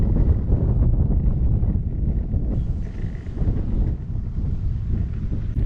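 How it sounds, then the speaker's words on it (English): A strong headwind buffets a cyclist's microphone on a road on the lower slopes of a Yorkshire Dales hill. It makes a loud, continuous low roar that never lets up, and no one talks. "It's an absolutely brutal headwind, the worst I've ever been in."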